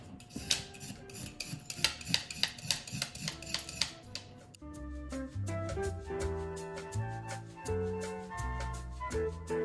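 Carrots being peeled with a peeler for cabbage egg rolls, steady rapid rasping scrapes repeating one after another, with soft background music throughout.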